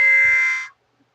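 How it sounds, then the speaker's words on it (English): A spaceship alarm sound effect blares as a single loud, steady electronic tone for about two-thirds of a second, then cuts off into silence. "All of a sudden, the spaceship alarm went off."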